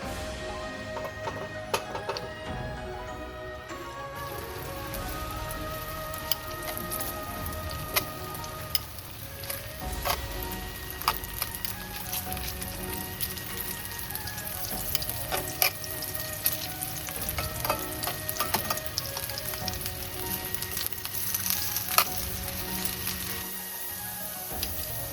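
Potatoes sizzling in shimmering avocado oil in a large skillet, a steady, bright crackle of frying that continues throughout with occasional stirring clatter.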